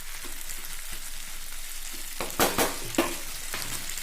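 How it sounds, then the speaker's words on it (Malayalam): Curry leaves drop into a sizzling drumstick stir-fry in a pan: an even background sizzle bursts into a few sharp, loud crackling spits as the leaves hit the hot oil, then settles again. "അവസാനമായിട്ട് കുറച്ച് കറിവേപ്പില കൂടി നമുക്ക് ചേർത്ത് കൊടുക്കാം"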